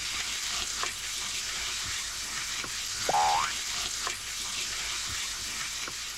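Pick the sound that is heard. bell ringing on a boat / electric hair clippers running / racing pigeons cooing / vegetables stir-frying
vegetables stir-frying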